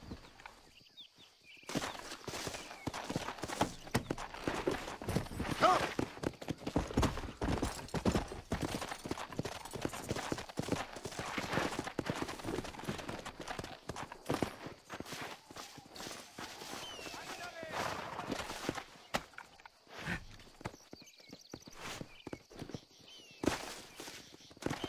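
Horse hooves clopping at a slow ride in Red Dead Redemption, a steady, fairly close rhythmic clip-clop continuing for the whole stretch with light ambient noise and no talk.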